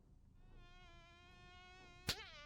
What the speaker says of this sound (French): Il y a une mouche.